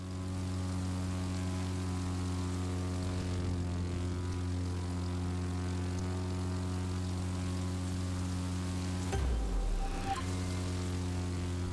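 Propeller airplane in the video game The Crew 2 droning steadily at low altitude, a loud continuous engine hum with strong harmonics, briefly surging near the end.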